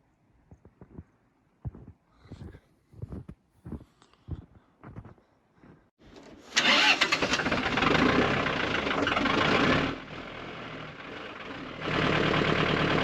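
A tractor engine cranking in short repeated bursts before catching, then running loudly at a steady idle close by, briefly dropping away and picking back up on a muddy, snowy ranch.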